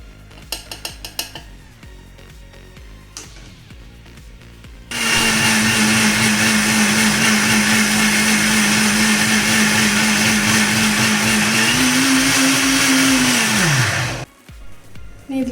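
An electric beater whisks eggs with vanilla essence in a bowl, a loud steady whirring drone that starts abruptly after a few light clinks, holds for about nine seconds, shifts pitch briefly near the end, then stops.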